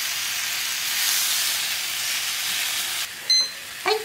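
Steak for roast beef searing in a frying pan, a continuous close hiss and sizzle, followed near the end by a couple of brief clinks and shuffles as the pan is moved.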